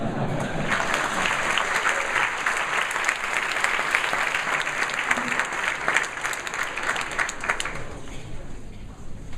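An audience applauds after a startup pitch at a New York event, with loud, dense clapping that holds steady for nearly ten seconds and thins slightly toward the end.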